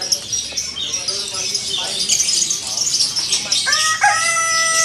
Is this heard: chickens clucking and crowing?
yes